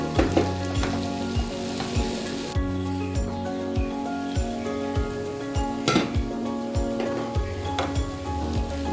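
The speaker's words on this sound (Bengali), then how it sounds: "লো ফ্লেমে এতক্ষণ মশলাটা বেশ ভালো ভাজা হয়েছে" Spices fry gently in oil with a steady soft sizzle, punctuated by repeated scraping and clinking of a spoon stirring in a pan.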